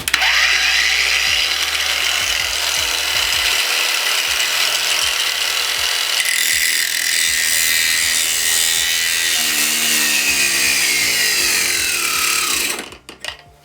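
A REVOLT cordless angle grinder fitted with a cleaning disc runs at high speed with a sustained whine, punctuated by repeated clicking and rattling contact noises, shifting pitch midway and spinning down near the end, close and loud.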